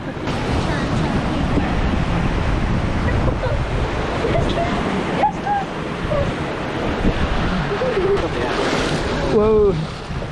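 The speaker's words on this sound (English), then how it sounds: "the waterfall again is definitely on" Steady rushing water from a waterfall at Six Flags Great Escape amusement park, a broad continuous roar close by with wind buffeting, while voices briefly exclaim in the background.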